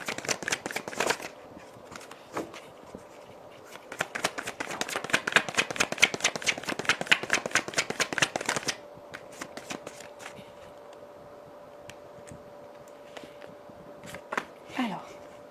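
Tarot cards are shuffled close up in a rapid, rustling riffle that runs in bursts for several seconds. A faint steady hum carries on behind it, and a few softer card taps follow afterward.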